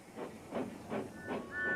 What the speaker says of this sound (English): Just then, Gordon steamed in